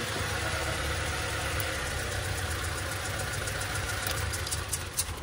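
A Toyota Fortuner SUV engine with one ignition coil unplugged runs steadily at idle with a low, rough, uneven throb, close up and loud, with no voices.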